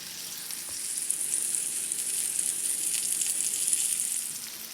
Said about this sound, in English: I turned the pork chops over and I added a little more shortening